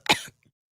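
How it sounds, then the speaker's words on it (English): A man clears his throat once, a short, sharp and close burst followed by a faint trailing rasp, with nothing else around it. "Had to clear my throat."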